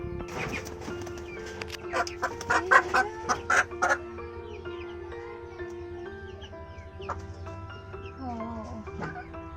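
Backyard chickens cluck and squawk close by in a rapid burst of sharp calls, then settle into softer intermittent clucking with a steady background hum.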